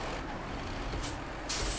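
A truck's air brake hisses in SnowRunner, with a short release near the middle and a louder burst at the end, over a steady low engine rumble.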